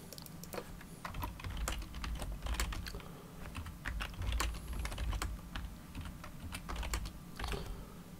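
Rapid typing on a computer keyboard while entering a router redistribution command in a GNS3 network lab; steady, close clicks with a few louder key strikes, alone with no talk.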